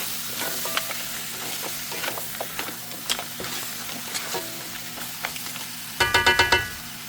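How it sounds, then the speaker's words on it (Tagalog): Mussels sizzle in a curry pan with garam masala as a spoon stirs them, a steady frying hiss broken by light scraping taps and a louder burst of rattling clatter near the end. "we can now add the mussels"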